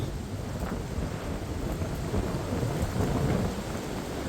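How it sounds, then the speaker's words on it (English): Strong wind storm gusting in Tulsa, a dense continuous roar of rushing air buffeting close to the microphone, with no speech. "Dang, it is so windy out here"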